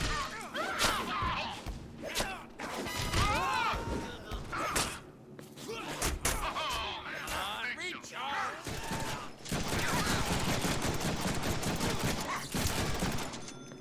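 Pistol gunfire in the Deadpool video game, rapid bursts of shots crackling over game music and effects, with a voice talking and exclaiming between the volleys.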